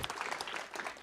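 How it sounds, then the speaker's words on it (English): Brief burst of audience applause at a Sister Cities annual meeting in Longmont, with dense, moderate clapping from a room of attendees. "One more big round of applause to kind of wrap up this phase of everything."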